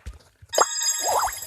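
Box opening in the mobile game Brawl Stars: a couple of soft taps, then a bright metallic ding followed by a shimmering chime and a warbling rising-and-falling reward tone.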